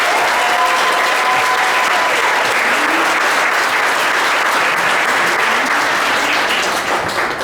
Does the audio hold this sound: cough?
no